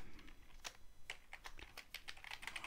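Typing on a computer keyboard while entering code, a quick irregular run of sharp clicking keystrokes, close and steady against a faint background hiss.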